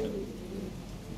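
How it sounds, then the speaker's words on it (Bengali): Fancy pigeons give a low, soft cooing call, one short murmuring coo at close range over a faint background hum, no one talking. "এইগুলো কবুতর, এই যে একটা ব্রিডিং করতেছে।"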